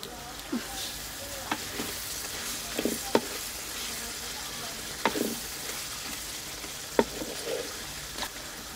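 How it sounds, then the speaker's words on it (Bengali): Teasel gourd fries with chilies in a pan, a soft continuous sizzle broken by several sharp spatula clacks and stirring scrapes at irregular intervals. "মরিচ কষানো হয়ে গেছে, এখন দিয়ে দিতেছি কাঁকরোল।"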